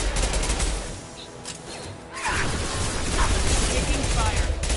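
Bursts of gunfire during combat in Mass Effect Legendary Edition, repeated close shots and rattling fire with a brief lull midway, loud and dense, with speech mixed in.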